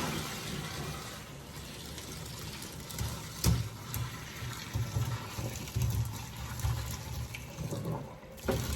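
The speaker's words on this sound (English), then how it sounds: "I'm gonna go ahead and strain out the water now." Water from a pot of boiled potatoes pours into a strainer with a soft, uneven splashing rush that swells and gurgles, fairly quiet and close, with no talking.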